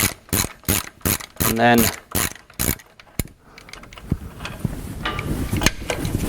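Ratchet wrench undoing the clamp bolts on the front anti-roll bar of a Range Rover P38, heard as several quick clicking bursts close up, followed by quieter workshop noise. Someone speaks briefly.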